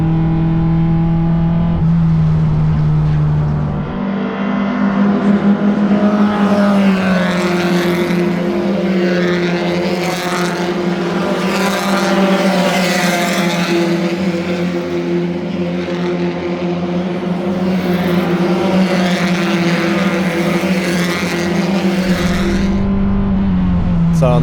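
A race car rounds a triple right-hand corner at The Bend circuit on still-cold tyres, its loud engine droning steadily close by for the whole stretch, the pitch dipping and rising as the car brakes and accelerates through the bends.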